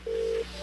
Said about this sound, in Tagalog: miring na iyang cellphone.